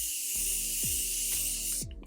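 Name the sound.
Morphe setting spray mist being sprayed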